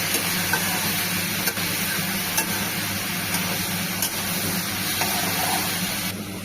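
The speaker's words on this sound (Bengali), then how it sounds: "লাউ দিয়ে তার মধ্যে স্বাদ মতো নুন আর হলুদ দিয়ে এটাকে ভালো করে নেড়ে নেব" Bottle gourd cooks in a pan with salt, turmeric and a cumin-seed tempering under a continuous gentle sizzle, with light scraping and clicks of a spoon stirring it at intervals.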